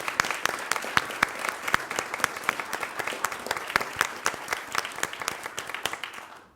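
Parents and officials at a school board meeting applaud standing JROTC cadets, sharp individual claps standing out within a lively, sustained round that fades out at the very end.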